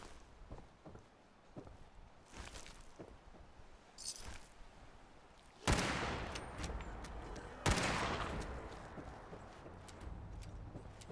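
Gunfire from a firefight in Fallout 4's Far Harbor, with a run of sharp shots followed by two heavy blasts that trail into a sustained roar, heard at moderate loudness with no voices.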